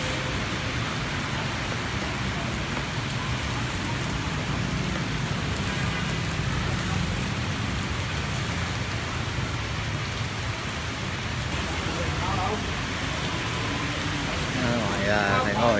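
Rain falling steadily on a Saigon sidewalk where an elderly street vendor sells balut eggs under an umbrella, a constant close hiss of drops on surfaces lasting throughout, with faint voices underneath.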